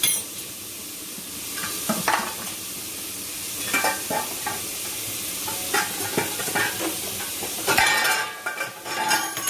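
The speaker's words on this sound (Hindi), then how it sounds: "तो भून ले रहे हैं" Masala dosa filling roasts over a raised flame in a pan, with a steady close sizzle and frying hiss broken by repeated scrapes and clinks of a spoon stirring it.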